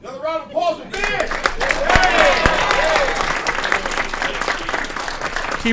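A room of people at a city council meeting breaks into steady applause, broad clapping sustained for several seconds under overlapping voices, after a brief moment of talk at the start.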